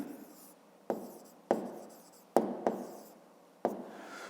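A pen writes a word by hand on paper for a fifth-grade maths exercise: close, crisp scratching strokes broken by six distinct taps and pauses, heard alone without talk.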